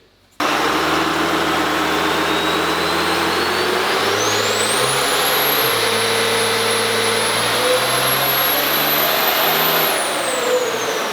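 A 5.9L diesel truck engine on a dynamometer, starting abruptly and climbing through a loud, sustained pull with a steadily rising turbo whine, then easing off near the end.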